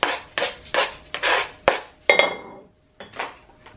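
Pieces of a red onion tumble into a cooking pot, giving a series of short, close, fairly quiet clattering knocks with brief pauses between them.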